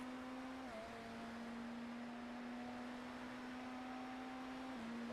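A steady electronic blue flag warning tone in the iRacing sim racing game holds at one pitch for several seconds, dipping briefly twice, over a faint background hum.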